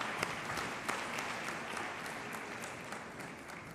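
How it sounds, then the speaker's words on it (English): An audience at an engineering awards ceremony applauds in a steady, dense wash of clapping that holds evenly throughout, with no voices on top. "can we please give another round of applause to Mr."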